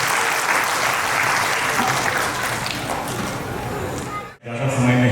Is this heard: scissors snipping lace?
no